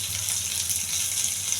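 Onions, curry leaves, garlic and dried red chillies fry in hot oil for thotakura pappu tempering, giving a short, steady, close sizzle with no speech.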